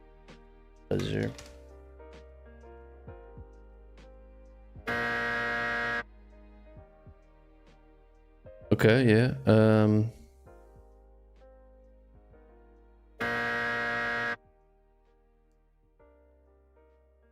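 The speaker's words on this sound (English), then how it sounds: "Buzzer." A synthesized buzzer sound effect made for a game jam project plays twice as flat, one-second tones separated by silence, with brief spoken remarks and other short game noises between them.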